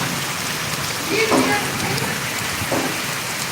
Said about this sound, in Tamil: மழை செம்ம ஸ்பீடு